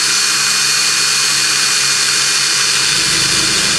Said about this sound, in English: she's going to drill a hole with the 1/8 drill around at each one of those marks